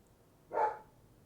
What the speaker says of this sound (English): And my dog is barking